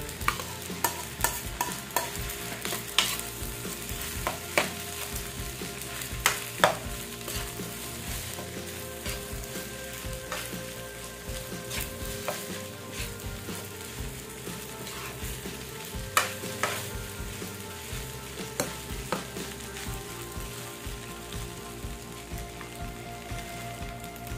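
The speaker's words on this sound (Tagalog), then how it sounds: "Lagay natin itong ating fry kanina na shrimps, chicken at egg. Halo na po natin." Fried rice with shrimps, chicken and egg stirred in a hot pan, steady sizzling broken by repeated scraping and clacking strokes of the spatula against the metal, close and without speech.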